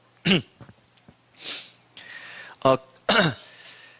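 Several short, harsh coughs come in separate bursts, close and moderately loud, with quiet gaps and faint breathy noises between.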